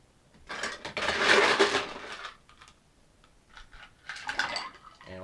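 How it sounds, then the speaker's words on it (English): Ice cubes rattle and clink into a cocktail glass for an absinthe drink, a burst of hard tumbling clatter, then a quieter pause and a second shorter run of clinks. "So add a little bit of ice."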